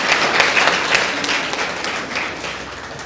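Audience applause at a Global School event in Malout, a dense, steady clapping crowd throughout that slowly eases off toward the end, with no talk over it.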